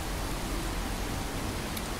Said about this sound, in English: we're nearly at lunchtime and it's pissing down rain